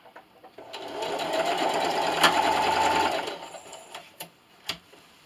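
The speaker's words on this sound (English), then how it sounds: "And then just sew. And don't forget to backstitch at the end." A sewing machine stitches a pillowcase seam in a steady mechanical whir for about two and a half seconds, followed by a few isolated clicks and taps as it stops, heard close and alone.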